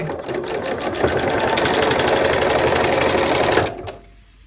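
Sewing machine chain piecing denim quilt blocks, a fast, steady mechanical stitching run lasting several seconds before stopping abruptly.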